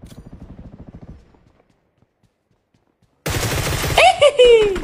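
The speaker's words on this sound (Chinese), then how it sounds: "可以利用敌人的枪声掩盖一下脚步。" Enemy gunfire in the video game Game for Peace, coming in loud rapid bursts after a quiet pause, with a rhythmic pattern like footsteps before it.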